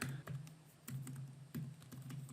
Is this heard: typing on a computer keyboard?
yes